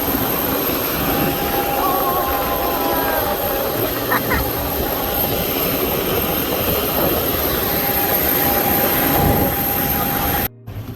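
Steady, loud engine roar and cabin hum inside a passenger plane during boarding on a flight to Milan, continuous and unbroken with faint voices underneath.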